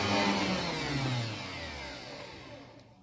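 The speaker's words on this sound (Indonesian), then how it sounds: "Mixer sudah mengental, kita akan matikan mixer." An electric mixer beats thickened lapis legit batter with a loud, steady motor whir that gradually drops in pitch and fades as it is switched off.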